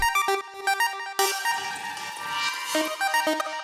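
Electronic dance music effects layer for a drop, with an arpeggiator plucking chord tones and a noisy riser sweeping upward before the plucks return, busy and close with no voices.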